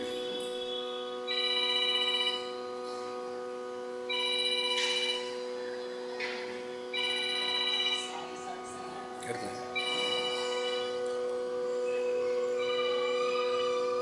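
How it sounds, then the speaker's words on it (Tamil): A mobile phone rings repeatedly among the audience at a Tamil devotional music festival, with bursts of electronic ringtone over a steady drone of held musical tones and faint background voices. "இந்த ஃபோன் யாருதுமா அடிச்சுக்கிட்டே இருக்கு."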